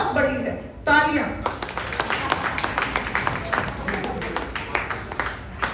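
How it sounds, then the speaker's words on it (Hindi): An audience breaks into applause, dense steady clapping that follows a short spoken voice and carries on, moderately loud and close. "तालियां।"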